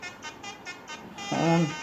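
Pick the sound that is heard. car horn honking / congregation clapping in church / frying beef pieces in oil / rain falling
car horn honking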